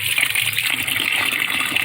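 Water gushes steadily as it is poured onto dried herbs to soak before boiling, a continuous bright splashing stream heard close up and alone.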